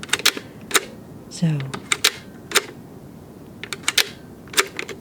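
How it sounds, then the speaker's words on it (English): Sharp clicks from a camera shutter in a quiet shop-like setting, a string of brief close taps at uneven intervals, with a soft spoken voice briefly in the background. "This right here is the shutter."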